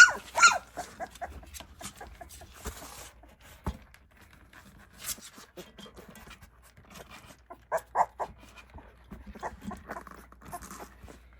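XL Bully puppies make soft, scattered whimpers and short yelps nearby, with faint rustling and handling noises in between.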